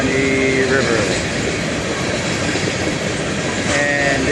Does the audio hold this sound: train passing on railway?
yes